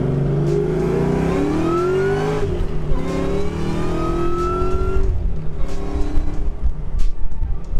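Supercharged Ford Mustang Cobra accelerating hard in first gear, the engine note climbing in pitch with supercharger whine, loud and close, then rough rumbling as revs settle.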